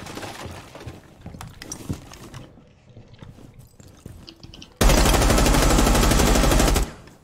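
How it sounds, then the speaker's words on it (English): Sustained rapid automatic gunfire in a Rainbow Six Siege match erupts loud and close for about two seconds after scattered quieter clicks, footsteps and scuffling. "Shots fired."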